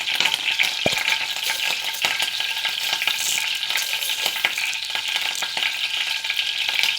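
Mustard seeds hit hot oil and crackle in a steady, close sizzle of dense high hiss, with one sharp pop near the start and sparse crackles scattered through. No voices are heard.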